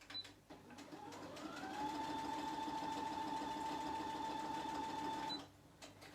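A sewing machine double-stitches a page, a steady mechanical whirring hum that ramps up, holds for several seconds and then stops, quiet and close, with no talking.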